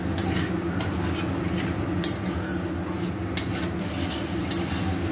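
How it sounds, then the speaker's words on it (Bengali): Turmeric and Kashmiri red chilli powder fry in oil in a pan with a soft, steady sizzle and a few light clinks of a utensil against the pan. No one speaks. "মশলাটা ভাজা ভাজা করে নেব"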